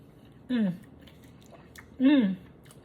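Chewing on keto chicken strips coated in Nashville hot sauce, eaten with a fork, with two short bursts of close, moist munching separated by a pause.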